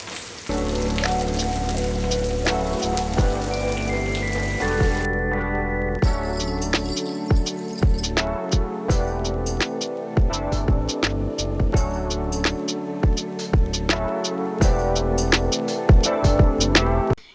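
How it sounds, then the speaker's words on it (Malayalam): Sliced shallots sauté in oil in a pan for a Kerala-style coconut fish curry, giving a steady, dense sizzle like rain on a surface throughout, with faint clinks of a spoon near the end. "ചെറുതായിട്ട് സ്ലൈസ് ചെയ്ത് വെച്ചിരിക്കുന്ന ചെറിയ ഉള്ളിയില്ലേ അത് ഇതിലേക്ക് ചേർത്ത് കൊടുക്കാം ഇനി നന്നായി ഒന്ന് വഴറ്റി കൊടുക്കാമേ"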